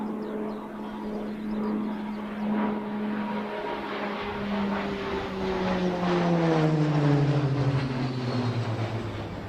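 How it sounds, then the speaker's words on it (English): Propeller-driven Texan aircraft fly past low down the runway at an airfield in Tauranga, their engine drone building loud and near, then falling in pitch as they pass. No one speaks over it. "They're going to come and do a fly past right in front of each other."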